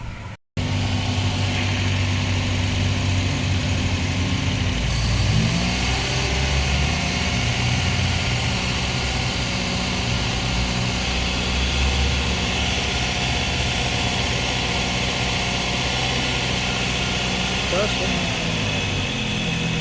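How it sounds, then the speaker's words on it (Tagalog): Suzuki Swift engine idling at a steady, slightly high rev, a continuous close hum and vibration that holds evenly throughout, with a faint shift in pitch partway in. "May nakita naman akong pagbabago sa idle niya"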